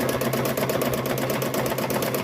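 A sewing machine stitches quilting fabric, running loud and close with a fast, even mechanical whir and a rapid needle rhythm that holds steady throughout.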